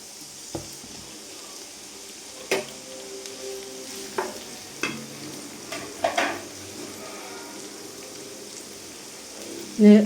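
Ingredients frying in sunflower oil in a pan, a steady low sizzle punctuated by several sharp clinks and scrapes of a stirring utensil against the pan, with a louder clatter at the end.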